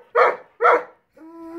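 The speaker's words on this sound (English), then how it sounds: "Fiona puppy said her's not sharing her bone with Sammy" A dog guarding a bone barks twice in quick, loud, close succession, then lets out a thin, drawn-out whine.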